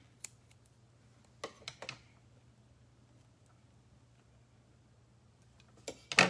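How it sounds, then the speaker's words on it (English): Paper being cut in half with scissors during a craft session: a few quiet snips spread apart, with sharper, louder cuts toward the end over a faint steady hum. "I'm gonna just try to actually cut this in half."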